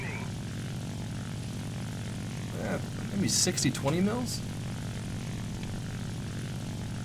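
Propeller drone of a La-9 fighter's radial engine in the War Thunder game, a steady low hum running throughout at moderate level, with someone talking over it in the middle.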